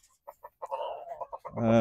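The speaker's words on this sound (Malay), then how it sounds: "reban ni sebenarnya saya letakkan Lhasa Apso dan beberapa ekor ayam kacuk lah" Lhasa Apso and crossbreed chickens cluck in a home backyard coop, a run of short, close clucks building into a louder, drawn-out call at the end.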